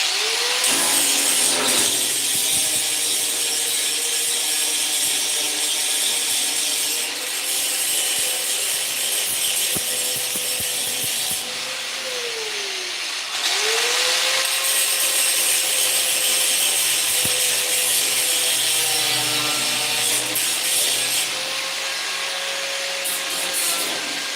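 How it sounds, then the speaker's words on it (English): An angle grinder with a grinding disc works down fresh welds on a metal frame for a Lamborghini hood build, a loud continuous whine that dips in pitch under load and briefly pauses mid-way before resuming. "the grinding disc on, and we'll start grinding out. This is the welds that we put in today"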